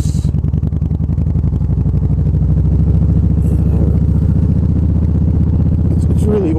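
A Honda Vaquero motorcycle rides along a road by the Delaware, its engine a loud, close, steady low throbbing drone with no letup.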